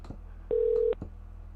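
One short, steady telephone keypad tone sounds as a Skype call is placed, quiet and alone over a faint background hum, with a couple of soft clicks around it.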